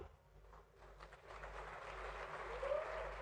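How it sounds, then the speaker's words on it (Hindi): An audience applauds at a speech, a broad wash of clapping that builds and holds steady, with a murmur underneath. "इतनी ताली बजाइए कि यहां से लेके दुनिया में देखे।"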